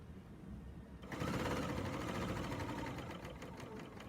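A serger overlocker sewing on quilt binding starts up after a second of quiet and runs in a fast, steady mechanical whir, close by with no talking.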